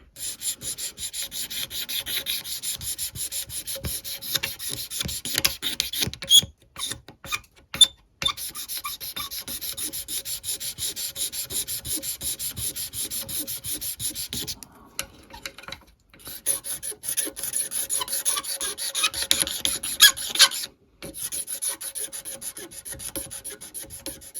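A 1960 Gibson TG-0 tenor guitar body has its old finish scraped off by hand: a close, dry rasping in rapid rhythmic strokes that continues for long stretches, broken by a few short pauses.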